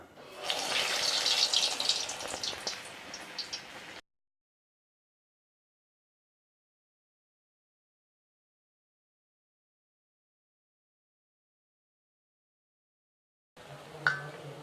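Urad dal vadai fry in hot oil for a tea-stall style snack. A loud, dense sizzle runs for about four seconds, then silence follows, and a brief sizzle returns at the very end.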